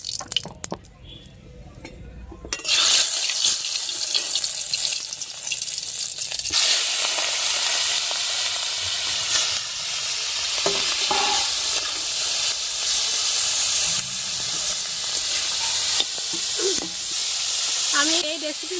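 Shrimp coated in salt and turmeric frying in oil in a wok for a Bengali village-style dish, a steady loud sizzle that begins abruptly after a quieter start and continues with crackling and spatter throughout.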